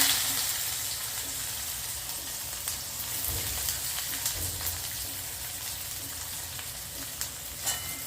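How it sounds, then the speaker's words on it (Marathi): Chopped onion hits hot oil already tempered with cumin, mustard seeds and asafoetida, producing a loud, continuous crackling sizzle with small pops and spits throughout, no talking. "तेल छान तापलं आहे आणि ते छान मी कांदा ॲड करते आता"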